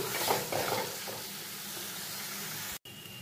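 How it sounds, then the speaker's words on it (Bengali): Elephant foot yam and potato sautéing with spices in a pan give a steady close sizzle with a few stirring scrapes early on, then a brief dropout before the hiss resumes. "খুব ভালো করে মশলার সঙ্গে ওল আলুটাকে কষিয়ে নিচ্ছি।"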